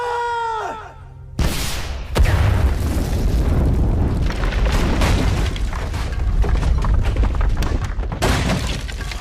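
Gunfire and blasts erupt in an action movie scene after an order to fire, a sudden loud burst that continues as a dense, roaring barrage.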